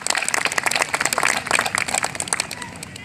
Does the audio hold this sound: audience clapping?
yes